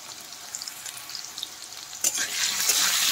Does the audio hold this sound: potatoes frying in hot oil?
yes